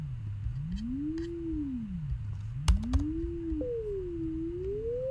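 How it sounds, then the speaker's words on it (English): A pure sine tone glides slowly up and down in pitch, modulated by a slow sine LFO, steady and smooth with a sudden jump near the end and a couple of faint clicks. "Right now the sine wave is just ramping up and down, ramping the frequency up and down"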